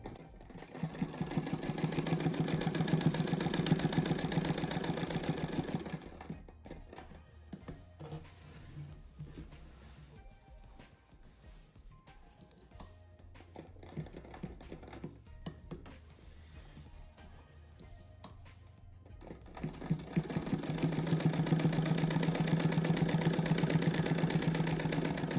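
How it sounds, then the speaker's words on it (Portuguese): A sewing machine stitches close along the edge of a star on a Christmas table runner, running steadily for several seconds, pausing through a quieter stretch, then stitching again loud and close at the end. "agora que eu vou costurar a estrela aqui, ó. Vou fazer uma costura bem na beiradinha"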